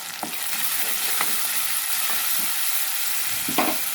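Chopped onions fry in hot oil in a kadai with a steady bright sizzle, broken by a few soft scraping stirs of a spoon against the pan; no one speaks.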